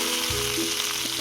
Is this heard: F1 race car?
no